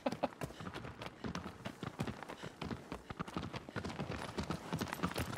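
Rapid rhythmic hoofbeats of a horse galloping in Shadow of the Colossus, steady and close over the game's ambient backdrop.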